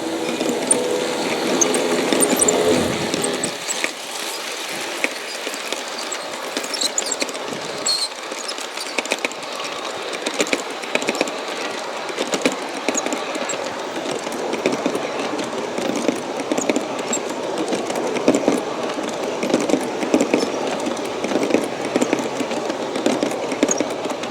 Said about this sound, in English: So here's the train coming down the grade again.